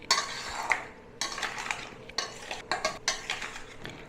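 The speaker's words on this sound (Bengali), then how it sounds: "ভালো করে ফের মিশিয়ে নেবো। সব কিছু ভালো করে মেশাতে হবে।" Raw mango pickle ingredients with oil being mixed in a bowl, heard as a series of close, wet scraping and squelching strokes in irregular bursts with short pauses, with no one speaking.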